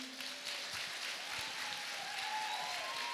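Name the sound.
audience applause at a women's conference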